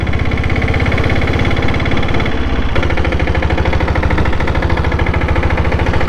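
A Royal Enfield Diesel Bullet engine running close by, loud and continuous, with a rapid, rough diesel knock and strong vibration throughout, briefly changing pitch partway as it revs.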